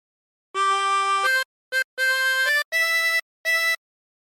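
Harmonica playing the opening phrase of Incy Wincy Spider: five clean, sustained reedy notes with short gaps, one very brief, played alone and close.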